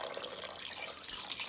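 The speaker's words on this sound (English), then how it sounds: "I'm going in with warm water," Warm water pours steadily into a pot of Guyanese eddo curry, a soft continuous splashing stream with no voices.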